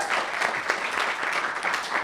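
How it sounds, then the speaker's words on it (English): Audience applause at a church service, sustained dense clapping from a gathered crowd for a newly introduced committee, steady and fairly loud with no talk over it. "So if you give them all a round of applause."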